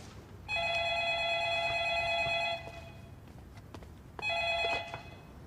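An old-style telephone bell rings loudly nearby in two long bursts, the first about two seconds and the second shorter after a pause, with faint background noise between.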